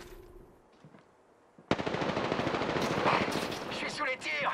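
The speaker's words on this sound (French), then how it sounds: "Je suis sous les tirs." Rapid automatic gunfire in the video game Apex Legends bursts in suddenly after a quieter stretch and keeps rattling loud and dense, with a player talking over the shooting.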